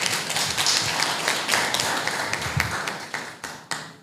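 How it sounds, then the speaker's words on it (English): Audience applause for performers at a Duke of Edinburgh Award ceremony, a dense, steady patter of many hands clapping that thins out toward the end, with a few sharper isolated claps standing out. "So let's give them a round of applause."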